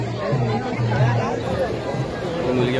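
A brief stretch of thick festival crowd babble at Worli Koliwada's Narali Purnima celebration, with overlapping nearby voices blending into a steady murmur.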